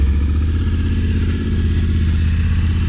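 A Yamaha Ténéré 700 with an Akrapovic exhaust runs steadily at a close, loud idle. The low, even engine pulse carries on alone for the whole stretch.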